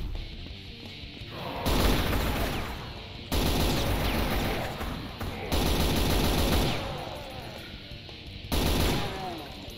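Rifle fire in the video game Brutal Doom, with loud sustained bursts of rapid shots coming in several long volleys separated by brief lulls.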